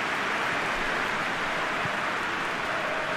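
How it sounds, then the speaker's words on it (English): Steady, even rain hiss fills the scene in the PES 2020 football video game, a constant wash of falling rain with no pauses and no voices over it. "Just starting to get the first signs of rain here"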